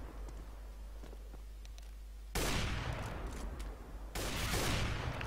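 CS:GO gunfire, a quiet patch of faint clicks and footsteps, then two sudden loud bursts of shots with rattling echoes, each holding at full level to the end.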